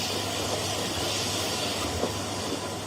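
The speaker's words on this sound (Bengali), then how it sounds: "ট্রেনটা ঘটাং ঘটাং করে লখনৌ স্টেশনের প্ল্যাটফর্ম ছাড়িয়ে বেরোল" A train pulls out of the platform at Lucknow station with a close, steady rumble and a hiss of steam, running unbroken for a few seconds.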